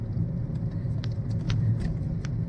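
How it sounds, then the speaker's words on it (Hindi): A steady low car engine drone runs throughout at a constant level, with a few faint clicks and ticks above the rumble; no voices. "मुझे गाड़ी की इंजन की आवाज़ सुनाई दे रही है।"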